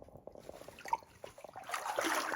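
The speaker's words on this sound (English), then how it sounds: "I'm climbing up out of the water a bit." Water sloshes and splashes as someone climbs partway out of it beside a slippery rock, making irregular close wet movements that build into a louder splashing surge near the end.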